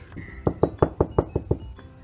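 Knocking on a door in a home setting, a run of about seven firm, evenly spaced knocks, loud and close, with no talk over them.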